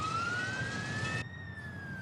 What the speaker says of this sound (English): I thought I heard a siren coming,